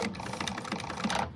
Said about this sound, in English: we're going to sew at the full seam allowance.